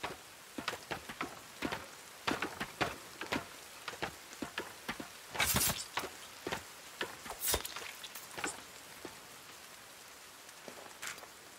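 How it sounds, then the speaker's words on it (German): Scattered raindrop patter in the survival game The Forest, with irregular ticks and a couple of brief louder bursts, moderately quiet, no voices. "Aber es regnet endlich!"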